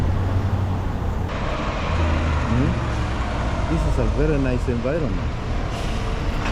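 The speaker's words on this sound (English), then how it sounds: "the cars are making a lot of noise" Cars and traffic at a Boston road junction, a continuous low engine rumble with passing vehicles and a brief rising-falling hiss, heard under someone talking throughout.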